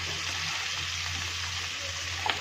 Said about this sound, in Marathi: हा बघा कसा खरपूस भाजलेला आहे